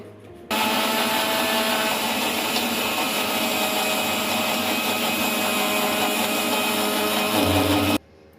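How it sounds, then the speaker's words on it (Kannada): A kitchen mixer grinder blending raw mango for spiced buttermilk runs steadily at full power for several seconds, a loud continuous motor whir that starts and stops abruptly. "ಈಗ ಇದನ್ನ ಮಿಕ್ಸಿ ಮಾಡ್ಕೊಂಬರೋದ ಬನ್ನಿ"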